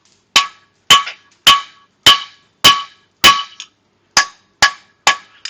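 A hammer rings down on hot steel bar nibs at a forge, nine sharp metallic blows in an even rhythm with short decaying rings between them, close and loud.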